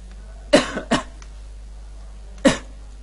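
Light coughs from a person playing the online game Ngọc Rồng Online: two quick close coughs, a pause, then one more, alone with no talk.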